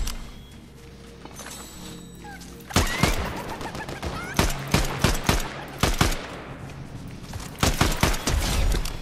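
DMR rifle gunfire in a multiplayer shooter: after a quiet start, sharp single shots ring out in irregular bursts, some close and loud and others echoing at a distance, with brief voices now and then.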